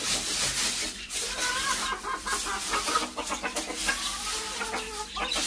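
Several chickens cluck and squawk busily, close by and fairly loud, with overlapping calls throughout and no talking.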